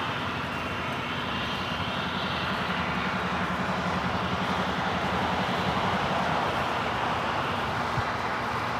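Jet engines of an airliner arriving at LAX from Munich roar steadily and loudly throughout, a broad sustained rumble with a faint steady hum underneath and no voices.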